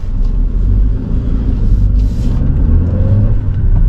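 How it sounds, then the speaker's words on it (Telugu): A car pulls away hard in first gear at high throttle, a steady low engine rumble with road noise building continuously, loud and close throughout. "Starting with first gear. నేను ఇనీషియల్గా హై టార్క్స్ ఇస్తున్నాను."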